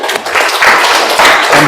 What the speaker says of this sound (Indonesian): Tepuk tangan dulu buat temannya.